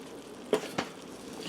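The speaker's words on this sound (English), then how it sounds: "I'm going to give this a stir" Beef chili with spices being stirred in an Instant Pot, a few soft scraping clinks of a spoon against the pot, close and brief, over a quiet background.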